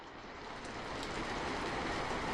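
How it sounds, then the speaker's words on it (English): A rain sound effect plays indoors as a steady, even wash of broadband hiss that grows slightly louder and keeps going with no break. No voices can be heard. "I started the rain somehow."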